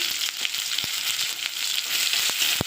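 Chopped tomato and salt hit hot oil tempered with five-spice seeds, giving a loud, continuous close sizzle broken by a few sharp spatter pops, with no talking.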